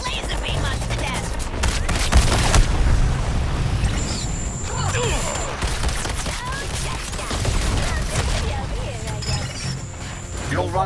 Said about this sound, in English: Cannon's trying to laser beam us to death.